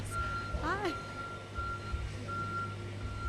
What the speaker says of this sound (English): We're waving at the truck going by.